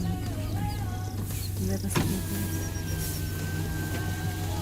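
A car's power window motor whirs as the glass rises and shuts with a thump partway through, recorded inside the vehicle on a drive in Johannesburg, South Africa, while people talk quietly over a low engine hum.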